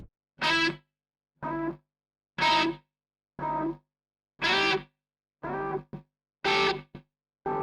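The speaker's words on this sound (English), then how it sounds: "We're just gonna use some delay and some reverb." Electric guitar played through a Valeton GP-5 multi-effects pedal with delay and reverb, about eight separate strummed chords spaced roughly a second apart, each ringing briefly with echo before cutting off, no talking.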